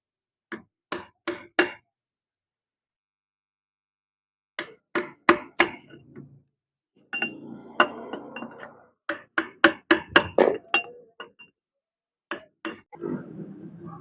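Hammer blows knock a bearing out of a flour mill (chakki), struck in quick bursts of three to five sharp metallic whacks with pauses between, close and loud, with some scraping and rattling of loose parts between strikes.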